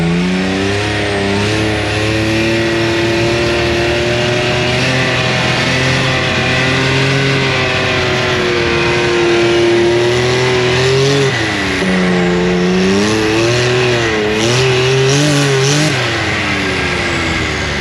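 The turbocharged engine of a Can-Am Maverick X3 runs loud and close, holding a steady drone that rises and falls through several revs with a turbo whine on top.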